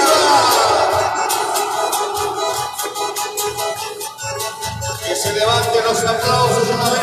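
A church congregation at a Virgin of Itatí devotion claps and cheers together, a loud, dense burst of applause that dips briefly mid-way and swells again.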